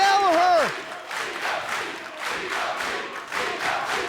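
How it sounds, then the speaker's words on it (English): A wrestling arena crowd at the Cruiserweight Classic chants in rhythmic, repeated bursts, steady and reverberant, after a brief voice at the start. "The crowd chanting"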